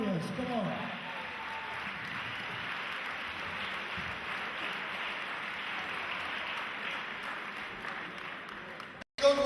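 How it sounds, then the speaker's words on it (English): A crowd applauds and cheers after an amateur boxing championship bout, a broad, steady wash of clapping from a large hall that holds level for several seconds before cutting off abruptly. "Let's have a great round of applause for both warriors."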